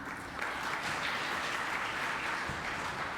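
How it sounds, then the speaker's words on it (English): A crowd's sustained round of applause for performers at an evening performance in Paris, a dense, even patter of many hands heard at moderate distance without voices. "a warm round of applause for all the performers here today"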